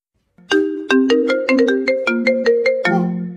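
A mobile phone ringtone plays a loud, bright electronic melody of about a dozen quick repeated notes, starting abruptly and ending on a sustained lower tone, with no voices.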